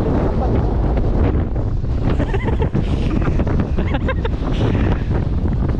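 Strong wind buffets the microphone on a moving boat heading out to sea, a loud continuous roar with water rushing beneath it and voices faintly talking under the noise.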